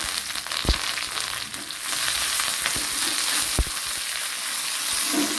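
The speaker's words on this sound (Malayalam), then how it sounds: "ചെറിയൊരു കടുതാളി കൂടെ കൊടുക്കാം." Mustard seeds tempering in hot oil for an eggplant (kathirikka) curry, giving a steady bright sizzle with a few sharp pops and crackles, close and alone with no talk.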